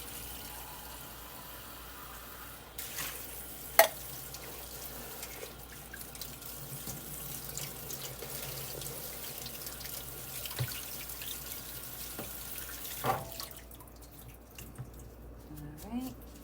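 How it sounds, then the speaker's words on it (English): Tap water runs into a pot of pesto minestrone soup that holds beans, making a steady, soft, close stream with a few clinks and splashes and occasional muffled talk. "That's why I'm adding water."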